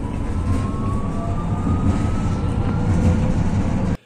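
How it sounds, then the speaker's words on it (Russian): A modern low-floor tram with a relatively quiet motor rolls along steadily with a low rumbling drone and a faint rising electric whine, fairly loud and continuous before cutting off abruptly. "Трамвай выглядит современно, двигатель у него относительно тихий."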